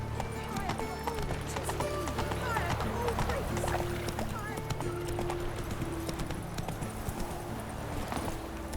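The horse Roach galloping in The Witcher, hooves drumming in a steady clip-clop rhythm amid game music and ambience, with voices talking over it.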